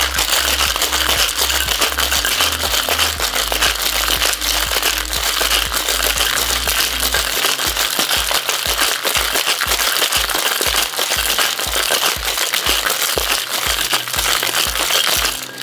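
Ice rattling inside a cocktail shaker while a tequila sunrise is shaken, a loud, continuous rapid crunching and clatter kept up vigorously from start to finish.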